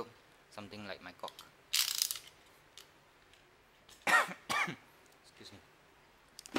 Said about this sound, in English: Excuse me, my cough is still bad